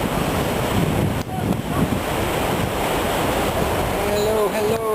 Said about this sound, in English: Here we are. Quinam Beach. At the bottom of Trinidad.